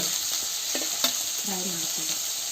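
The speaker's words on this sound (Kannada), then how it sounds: "ಮಿಕ್ಸ್ ಮಾಡ್ತಾನೆ ಇರಬೇಕು ನೋಡ್ರಿ" Chana dal curry sizzles steadily in a pan while a spoon stirs it, with a few soft scrapes and clinks over the constant close frying hiss.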